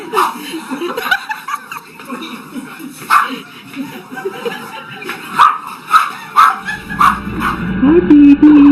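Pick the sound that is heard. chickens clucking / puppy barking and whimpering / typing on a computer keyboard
puppy barking and whimpering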